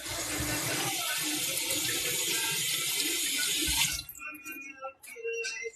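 Irish potatoes are rinsed under a running kitchen tap, a steady loud splash of water that lasts several seconds before cutting off into quieter handling clatter.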